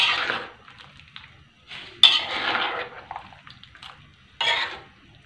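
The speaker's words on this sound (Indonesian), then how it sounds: "Ini dipanggil ditumis, tumis bumbu lengkap sahabatku ya." Young jackfruit is stir-fried with a full spice paste in a pan, a utensil scraping and clanking against the metal in scattered bursts, with faint sizzling between strokes.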